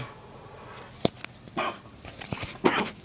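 A dog barks in a few short, sharp bursts at close range, spaced unevenly over a quiet indoor background, with no talk over the barks.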